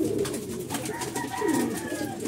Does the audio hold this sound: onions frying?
no